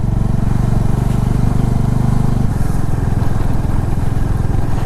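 Bajaj Dominar motorcycle climbing a hill road in second or third gear, its engine a steady, loud, close drone with a throbbing low pulse, no talk over it.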